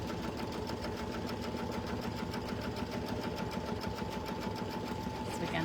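A sewing machine tacks down fabric in a fast, even run of needle strokes, steady and close throughout with a slight hum beneath.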